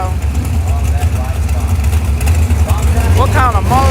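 A drag racing car's engine runs at a bracket racing event at Xtreme Raceway Park. The low, steady rumble sits under loud, close conversation.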